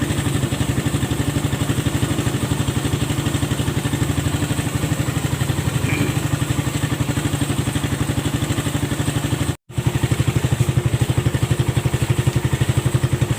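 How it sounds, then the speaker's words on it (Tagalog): A motorcycle engine idles steadily with a rapid, even putter, loud and close, with a momentary cut before it keeps running. "tuwing magpapaandar ako ng aking alagang motor"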